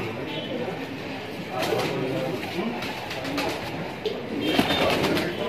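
Muradabadi desi pigeons coo in a loft, soft overlapping throaty calls rising and falling continuously at close range, with occasional wing flutters and no voices.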